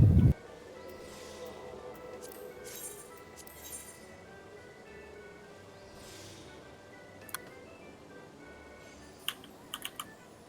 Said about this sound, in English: Is my keyboard too loud?